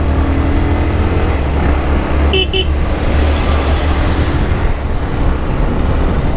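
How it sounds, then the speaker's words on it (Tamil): Vehicle horns on a hilly ghat road, two quick honks rising over loud, constant traffic and engine rumble, with buses and trucks passing close by. "வண்டி ஹார்ன் வேறு அடிச்சுக்கிட்டே இருக்கானுங்க பீங் பீங்னு"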